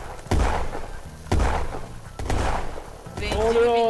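Several heavy booms and thuds from bomb explosions in the video game Feather Party go off in succession, with a voice speaking over the end.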